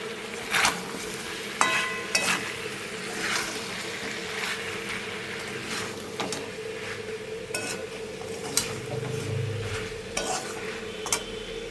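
Chicken sautéing with spices and ground black pepper in a pan, a soft steady sizzle with occasional scraping stirs and light utensil taps, quiet and close with no voices.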